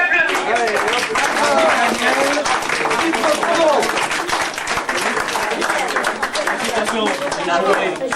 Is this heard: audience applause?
yes